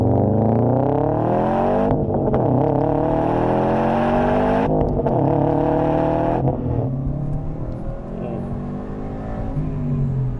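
A 400 hp Subaru Impreza RS with all-wheel drive pulls hard through first gear, its engine note rising steadily with brief dips at each shift point, loud and close from inside the car.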